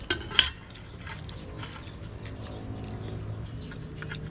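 A spoon scrapes and taps against a plate while rice is scooped at a camp meal, with one sharp clink near the start followed by softer, scattered scraping clatters, close by.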